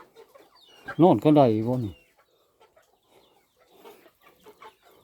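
Chickens clucking close by in a rural Thai or Lao farm setting, one loud, drawn-out cackle standing out over fainter background clucks and murmured voices, with people talking in the background.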